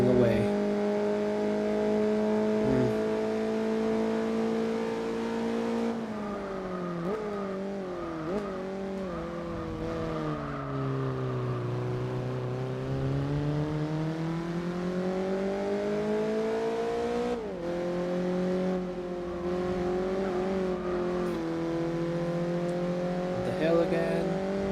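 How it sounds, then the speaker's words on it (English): A Toyota Yaris engine revs and pulls away in the racing game Gran Turismo 4, its tone rising and falling through gear changes over a long stretch, with someone talking over the engine throughout. "Toyota Yaris pulling away"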